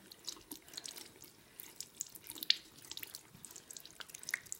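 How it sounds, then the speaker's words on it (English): Makeup brushes are rinsed under running tap water, a faint, soft patter of splashing and dripping that continues without voices. "So I'm just going to rinse. Really try and rinse it till it's clean."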